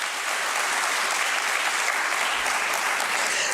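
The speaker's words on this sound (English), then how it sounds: "Do you want to clap for that?" Sustained applause from an audience at a stock exchange listing ceremony for a diagnostics company at BSE, steady and dense clapping throughout, fairly loud and close, with no talk over it.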